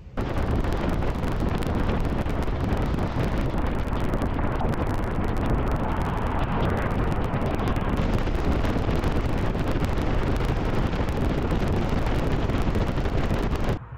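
Wind noise while driving on the road, a loud constant rushing roar buffeting the microphone for the whole stretch with no pauses or voices.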